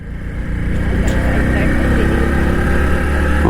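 Motorcycle engine running close by, a loud steady low rumble that holds constant throughout.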